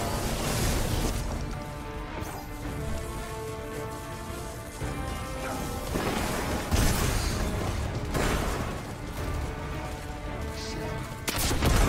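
Dense, continuous weapon fire in Destiny 2, with overlapping bursts, shots and mechanical clatter at steady high loudness throughout, swelling at a few points.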